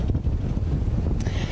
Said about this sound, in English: I'm sure you can hear things are extremely windy out here